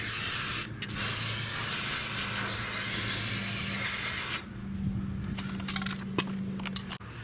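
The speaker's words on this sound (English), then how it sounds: "I'm going to get in here and spray the anchor as well." Anti-corrosion spray hisses in a long steady burst onto a Sea-Doo Switch anchor, loud and close, then stops, followed by light clinks and handling noises.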